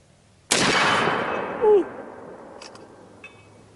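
A single loud rifle shot fired during target shooting outdoors, a sharp crack followed by a long rolling echo that fades over a few seconds, with faint clicks afterward.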